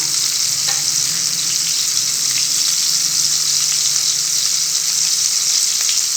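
A turkey breast sears in hot butter and oil, giving a loud, steady, close sizzle with a few faint pops and no voices throughout.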